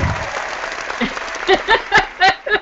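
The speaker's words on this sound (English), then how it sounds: "That should get a clap" Brief, sparse applause from a few people, a handful of separate claps growing slightly louder toward the end.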